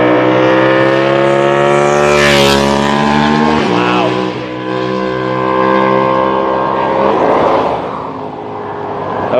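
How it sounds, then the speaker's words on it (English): An exceptionally loud motorcycle roars past on the I-5 freeway near Salem. The close engine whine sweeps downward as it passes, and a second engine surge follows before the noise settles into ongoing traffic. "That was an exceptionally loud motorcycle."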